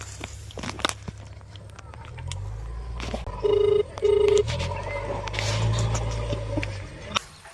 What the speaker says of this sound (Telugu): చారీ గారు ఇప్పుడు రాజేష్ గారికి ఫోన్ చేస్తాడు